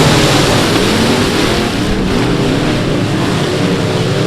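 Stock cars race at South Texas Speedway, a dense continuous engine roar that stays loud and even with no distinct pass-bys and no voices.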